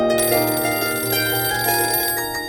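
A telephone rings over and over in a home, a bright, steady electronic trill that carries on unbroken and fairly loud throughout.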